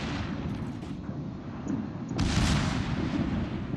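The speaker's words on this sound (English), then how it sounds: "Secondaries are going on." Secondary guns on a warship fire during a World of Warships naval battle, giving repeated muffled booms and crackling bursts over a rumbling game soundscape, with a sharper, louder blast near the end.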